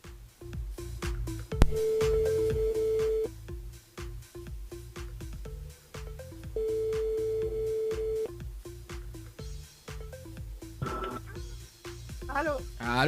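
A telephone ringback tone sounds twice as a radio host calls a contest listener on KAYANM FM, with long steady beeps separated by a pause over a busy music bed.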